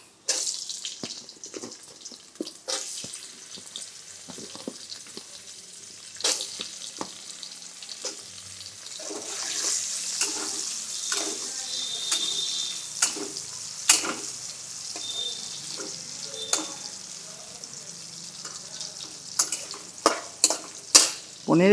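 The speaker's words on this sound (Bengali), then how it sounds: "আমি প্রথমে পনিরের টুকরোগুলো দিয়ে দিচ্ছি" Paneer pieces and vegetables fry over a high flame in a pan, with a bright sizzle broken by repeated sharp clacks and scrapes of a stirring utensil, growing louder and more frequent toward the end.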